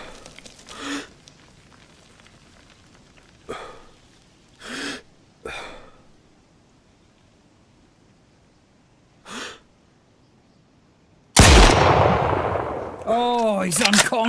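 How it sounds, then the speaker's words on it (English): Several sharp gunshots ring out at irregular intervals as players shoot zombies in DayZ, followed by a louder burst of noise and ringing tones near the end. "That's why they're shooting Zeds."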